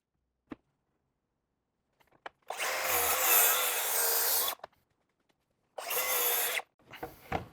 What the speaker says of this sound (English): So I like to use the track saw whenever I have big sheets of plywood